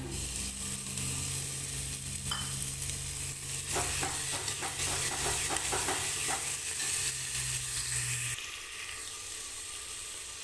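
Tomatoes hit a pan of browned onions and sizzle steadily, joined by stirring clatter midway before the frying quiets somewhat toward the end.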